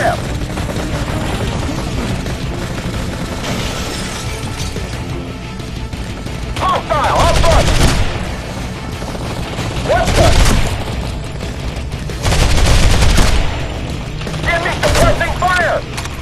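Gunfire in the mobile shooter Modern Combat 3: Fallen Nation, with bursts of shots and heavy booms breaking through a dense, continuous battle din, loudest in several surges, while voices shout over the combat.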